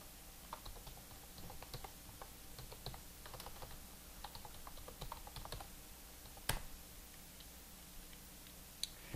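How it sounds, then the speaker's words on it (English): Security code being typed on a computer keyboard: light, scattered keystroke clicks over a steady background hiss, with one sharper click near the end. "I'm going to type in my security code"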